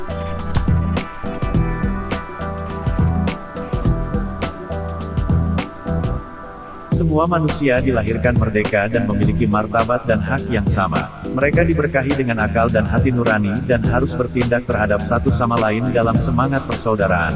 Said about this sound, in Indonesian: Nah, itu adalah suara reverb.